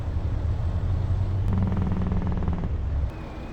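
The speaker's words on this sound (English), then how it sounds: "The truck makes a strange noise when I brake." A truck in the Farming Simulator 25 video game makes a strange noise while braking: a short tonal whine rises over a steady low engine rumble, then fades, with no talking.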